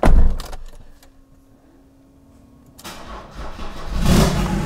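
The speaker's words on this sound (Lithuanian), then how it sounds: "Tai turbūt reikia bandyti kurt ir važiuoti į kiemą." A BMW E39 car on R22 wheels cranks and its engine catches, a loud start at the opening, then a quieter settled idle before the engine swells again with revving toward the end.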